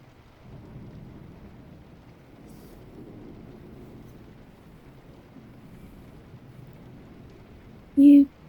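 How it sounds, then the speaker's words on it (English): Low thunder rumbles steadily in the distance during a thunderstorm, with a soft continuous roll and a brief louder tone near the end. "it's thunder we're talking about"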